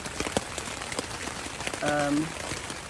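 Steady rain falling on and around a tent on the Appalachian Trail during a very wet week, a dense continuous patter close by, with a brief crinkle or rustle partway through.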